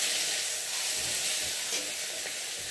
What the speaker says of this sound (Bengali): আর এই যে মাছগুলোকে দিয়ে একে একে ভেজে নেব।